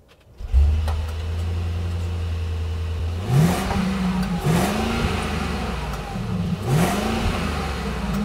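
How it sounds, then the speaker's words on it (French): A Mercedes GLS 600 Maybach's 4-litre V8 engine cranks and fires up, settling into a steady low idle, then revs rise and fall a few times, close and loud. "maintenant on va démarrer ce Maybach avec son V8 4 litres issu des AMG GT"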